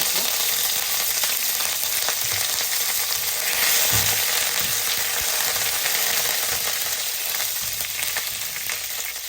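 Curry leaves frying in hot oil with urad dal for Mangalorean fish curry, a loud continuous close sizzle and crackle with a brief louder burst as the leaves hit the oil.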